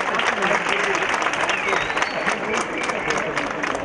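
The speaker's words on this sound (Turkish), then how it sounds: "Alkışlarınızla değerli misafirler." Steady, dense applause from a concert audience at an 18 March Çanakkale commemoration concert in Turkey, filling the whole stretch at an even, fairly loud level with a voice faintly mixed in.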